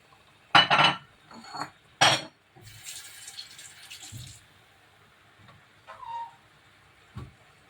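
Three small eggs go into a pan, producing sharp clinks and knocks of shells and utensils against cookware, followed by softer sizzling and scattered light taps, with quiet gaps in between.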